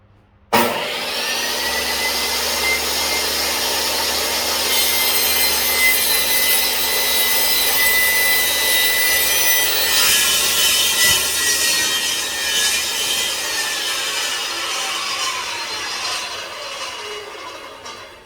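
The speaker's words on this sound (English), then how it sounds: "keep your hands free and clear of the saw, because if you don't, the wood will gradually just start drifting one way or another due to the pull of the saw" A power saw cuts steadily through a wooden stair tread for a Cap A Tread repair, making one loud continuous rasping cut of about seventeen seconds that tapers off as the blade winds down.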